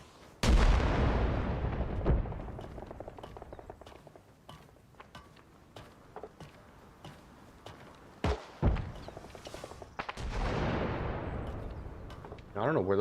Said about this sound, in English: I don't know where those grenades are going, but I hear them whizzing